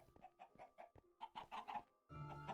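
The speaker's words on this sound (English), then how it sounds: "chickens." Chickens clucking in the video game Minecraft, a run of short close clucks in quick uneven bursts, then a brief pause before a fuller burst of farmyard sound, with no talking.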